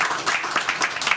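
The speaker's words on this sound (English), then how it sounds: "A large round of applause to Shivani" A large audience at an art heritage and wellness event claps in a round of applause, producing a dense, steady patter of many hands that holds for just over a second at moderate loudness.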